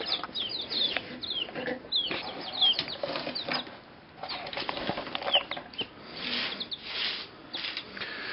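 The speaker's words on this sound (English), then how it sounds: "They're very hungry birds." Hungry birds flapping and squabbling over worms at feeding time, with busy wingbeats, scuffling and sharp high chirps coming in bursts throughout, fairly close and dense.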